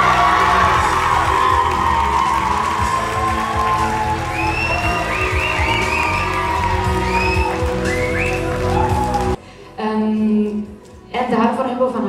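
Loud audience applause with cheering and whoops fills a Dutch awards show hall as a Best Promo winner is called up, cut by brief dropouts near the end where a voice and music briefly surface.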